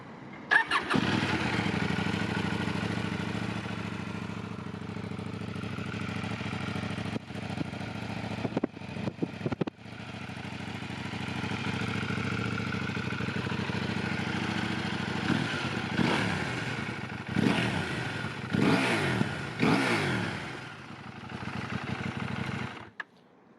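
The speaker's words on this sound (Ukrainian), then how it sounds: "я не покрутив газюльку і надав послухати Акрапович" A KTM 790 Duke 2025 motorcycle fitted with an Akrapovič exhaust starts and idles steadily, then gives several sharp throttle revs in the second half, close and loud with no talking.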